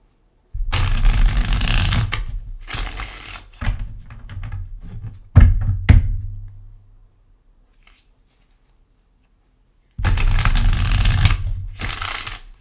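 Several bursts of brisk tarot card shuffling, riffles and rustles close by, with a quiet pause before a final round of shuffling.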